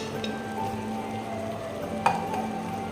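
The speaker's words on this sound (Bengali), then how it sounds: "জলটা ফুটছে, দেখুন জলটা ফুটছে" Water bubbles at a steady simmer in a pot as Kashmiri kahwa tea is brewed, a continuous soft seething with a single light clink of metal near the end.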